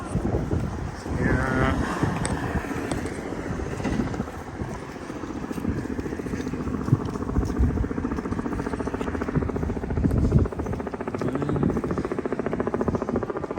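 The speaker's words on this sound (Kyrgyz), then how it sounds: "Частный вертолет летит." A private helicopter flies overhead with a steady broadband rotor drone, outdoors on a breezy day among tourists in Hiroshima, the sound blending with wind noise throughout.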